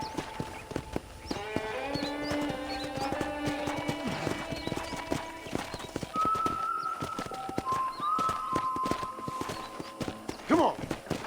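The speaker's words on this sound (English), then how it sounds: "I picked out a fine horse for you." Horse hooves clip-clop steadily at a walking pace on a ranch in Red Dead Redemption, with birds chirping around them, a brief whinny near the end, and someone talking over much of it.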